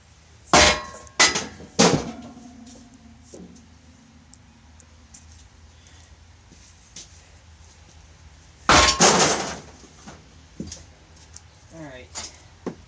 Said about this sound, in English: I'm giving this a fair number of good whacks.